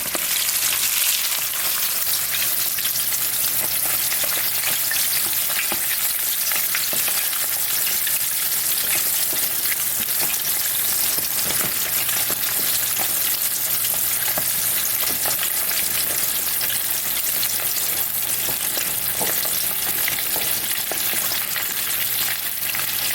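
Floured chicken pieces, coated using mustard, fry in hot oil for Southern-style crispy fried chicken, giving a loud, dense, steady sizzle that holds unbroken from start to finish with no voices.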